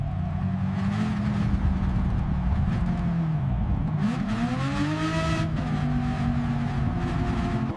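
A Bugatti La Voiture Noire drifts wide at Old Spa, its engine droning and sweeping in pitch as it revs, with faint tire noise throughout and no talk.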